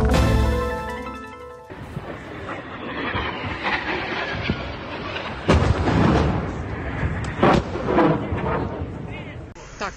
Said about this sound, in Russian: Началось. Взрывы,